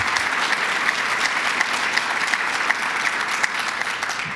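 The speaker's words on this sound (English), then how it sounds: "Let's give them a round of applause." Steady applause from a crowd at a government announcement about a Niagara Falls waterfront project, loud and continuous for the whole stretch, with dense clapping and no talk over it.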